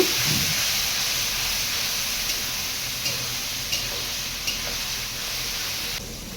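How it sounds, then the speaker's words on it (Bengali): Masala frying in a pan with a little water just added, making a steady close sizzling hiss with a few faint ticks of utensil contact and no talking. "সামান্য একটু জল দিচ্ছি ড্রাই হয়ে গেছে একটু জল দিয়ে কষিয়ে নেব"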